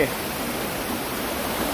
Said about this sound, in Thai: ได้ยินเสียงน้ำไหล เป็นบรรยากาศแบบ บรรยากาศเหมือนน้ำตกนะครับ